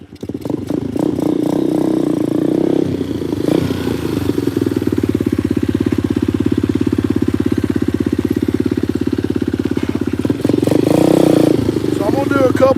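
KP mini motorcycle engine running close by with a loud, steady throbbing idle and a brief rise in revs partway through.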